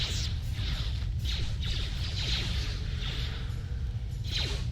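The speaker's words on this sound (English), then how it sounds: "let's just start force lightning everyone" Force lightning crackling in Star Wars: Knights of the Old Republic, heard as a run of repeated sizzling zaps and whooshes that pulse every half second over a low rumbling backdrop.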